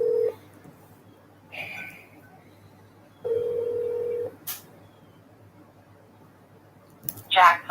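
Touch-tone beeps of a phone dialing 911 on speakerphone, a few separate tones spaced over several seconds with clicks and a brief chirp near the end, set against quiet room noise.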